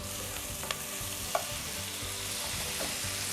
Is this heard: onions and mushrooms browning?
yes